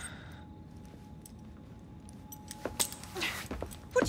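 A ring of keys jangles briefly as it is handed over in Assassin's Creed Syndicate, a few bright metallic clinks near the end after a quiet stretch of low ambience.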